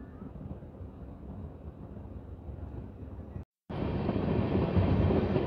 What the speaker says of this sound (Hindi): अब ट्रेन जो है यहाँ से दोबारा चली है